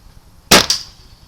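A Webley LiteW8 air rifle fires a single sharp shot, a loud, close crack with a brief metallic second click right after, then quiet.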